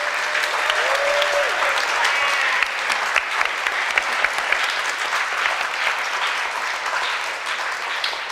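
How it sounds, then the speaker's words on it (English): A large audience claps steadily for several seconds, a dense, sustained round of applause. "Let's give our panelists another huge round of applause."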